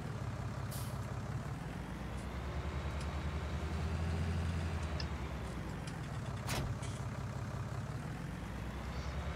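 A tractor engine from the Farming Simulator 19 video game drones steadily at a low pitch, with a faint rise and fall in revving and a few brief hissing bursts, and no talking.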